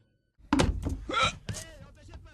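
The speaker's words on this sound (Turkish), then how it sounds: "kaç kere söyleyeceğiz size şu kapıyı yumruklamayın diye ha?" A fist pounds on a door several times, close and loud. A few heavy thumps come in a rough rhythm, then a shorter knock, with some room echo and brief vocal sounds mixed in.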